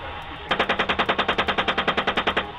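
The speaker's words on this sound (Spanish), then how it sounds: "desde un helicóptero estadounidense se hicieron disparos contra civiles en Bagdad" Machine gun fire from a US helicopter over Baghdad, a rapid burst of about twenty evenly spaced loud shots lasting two seconds, preceded by a short quiet moment and heard alone.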